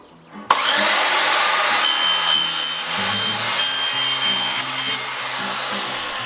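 A handsaw cuts through a length of rainwater gutter, giving a loud, close, continuous rasping drone that starts abruptly and holds steady for several seconds with no speech.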